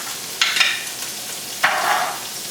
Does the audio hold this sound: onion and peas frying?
yes